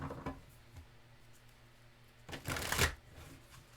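Tarot cards being shuffled close by: soft papery riffles and taps, with a louder, fuller riffle burst partway through, no talking.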